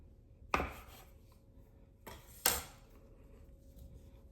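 Two sharp knife strikes chop through a ball of bread dough being divided into four portions for garlic and pork-fat palyanytsia, about two seconds apart, close and crisp over a quiet kitchen background.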